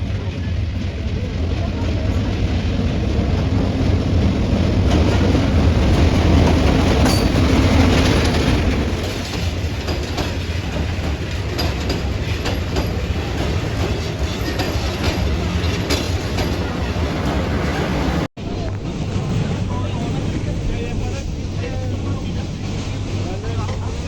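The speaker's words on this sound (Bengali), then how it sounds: "ওই যে দেখো ট্রেন আসছে" A train pulls into a railway station at night with a loud, steady rumble and rolling wheel clatter that lingers close by, while people talk over it.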